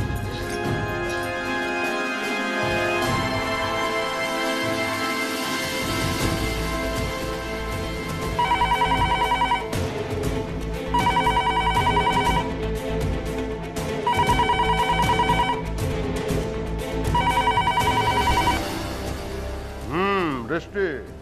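A telephone rings in a Bengali TV serial scene, sounding four repeated bursts of ringing over background music after an earlier stretch of talking.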